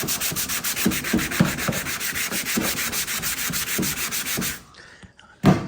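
Sandpaper rubs rhythmically over primer on a car quarter panel, giving steady back-and-forth strokes at close range. The strokes stop near the end and a few faint handling noises follow.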